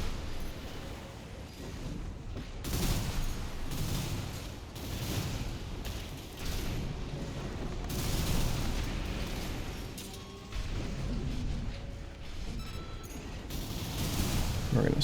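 Missile launches and explosive bursts from Armored Core 6 mech combat during PvP play, a dense continuous barrage of pops and blasts with loud swells, layered with game noise throughout.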